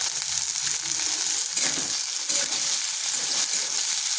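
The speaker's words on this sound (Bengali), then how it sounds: "পেঁয়াজটাকে ভেজে নেব।" Two medium onions, sliced into long strips, sizzle steadily in hot oil in a pan, a close, continuous crackle with occasional stirring scrapes and no voices.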